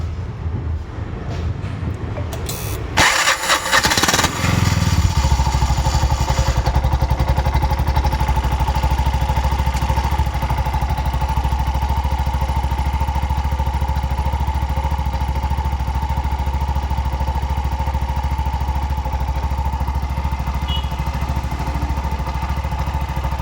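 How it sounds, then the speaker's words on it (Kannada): A Bajaj BS6 CNG pickup auto-rickshaw engine cranks with a brief rough burst, catches and settles into a steady, loud, close idle with a constant low drone and rattle that runs on alone. "ಸ್ಟಾರ್ಟ್ ಮಾಡಿ ನೋಡೋಣ ಏನಾಗ್ತಾಯಿದೆ ಇವಾಗ"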